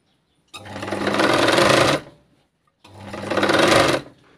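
A sewing machine stitches a katori blouse in two close, loud runs of about a second and a half each, the motor whirring up and needle rattling, separated by a short pause.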